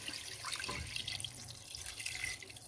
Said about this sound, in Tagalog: Lalagyan lang natin siya ng tubig.